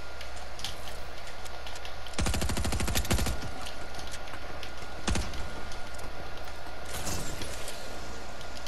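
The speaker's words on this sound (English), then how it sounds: "Dude, he keeps on fucking shooting me." Gunfire rattles in a Fortnite match: a rapid burst of closely spaced shots, then a single sharp crack and a short later volley, all over a constant game background hum.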